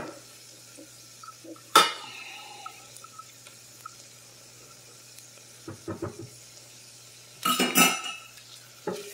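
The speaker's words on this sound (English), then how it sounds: "Give that a little stir, huh?" Onions and ketchup in a frying pan are stirred with a utensil, giving a few distinct clanks and scrapes over a faint low sizzle, with a louder burst of scraping near the end.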